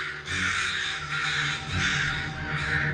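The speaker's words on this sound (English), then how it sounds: "The crows seem to wail and scold her and the dead bird." Several crows caw harshly and continuously, their loud overlapping calls rising and falling close by with no pause.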